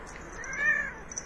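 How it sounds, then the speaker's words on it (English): A pet cat gives a single short meow indoors, fairly quiet and close, rising and falling over about a second against a faint room background. "That's my cat."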